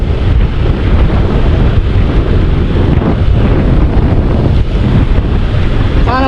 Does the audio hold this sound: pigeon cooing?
no